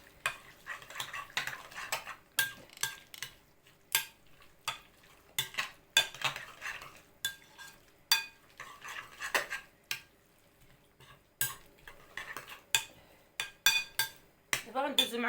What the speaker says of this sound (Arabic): وكنخلطوه الخليط ديالنا